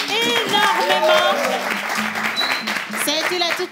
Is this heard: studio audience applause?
yes